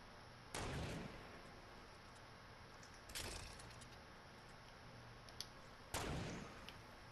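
Three heavy, booming gunshots ring out in a battle royale video game, spaced a few seconds apart, each with a long echoing tail over a quiet, steady background.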